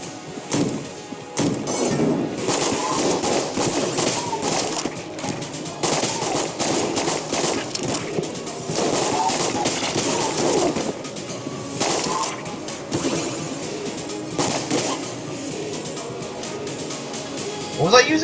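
Rapid pistol gunfire from the game Enter the Gungeon crackles through a busy, dense mix of game sound effects, with shots repeating steadily across the whole stretch.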